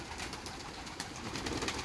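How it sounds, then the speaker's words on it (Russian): Pigeons coo softly as they emerge from their loft, low throaty calls repeating faintly against quiet background noise. "Заметьте, как голуби выходят."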